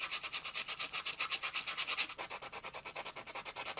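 A Little Cleo fishing lure with flaking paint is hand-sanded with 320 grit sandpaper. The close, rhythmic back-and-forth scrubbing strokes come at a fast, even pace with no talking.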